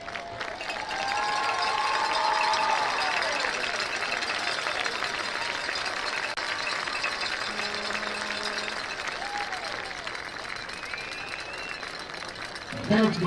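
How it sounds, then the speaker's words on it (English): A stadium crowd at a high school football game applauds and cheers for the 2022 senior Maverick players on senior night, a broad, distant, sustained roar with faint announcer-style voice fragments. "Please stand and give the 2022 senior Maverick football players a Maverick round of applause."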